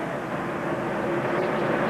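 An Army helicopter passes over a racetrack during a NASCAR race, a steady, loud, broadband rotor and engine roar that holds evenly throughout with no breaks.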